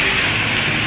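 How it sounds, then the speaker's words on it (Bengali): Fried potato, pointed gourd and pumpkin go into sizzling masala in a pan, producing a loud, dense, continuous hiss and crackle that holds steady for under a second. "এবার এর মধ্যে ভেজে রাখা আলু পটল কুমড়োটা দিয়ে দেবো।"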